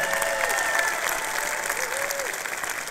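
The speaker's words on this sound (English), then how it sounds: "Will you please give a round well of applause to Ms. Esmeralda Flamenco?" Sustained applause from the crowd at a college convocation and commencement ceremony in Houston, steady and full throughout with a faint tonal sound drifting underneath.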